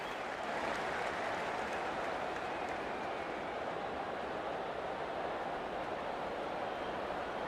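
A stadium crowd roars steadily at the kickoff of an Eels versus Dragons rugby league match, a dense, continuous wash of cheering and noise that holds at an even level with no clear voices standing out.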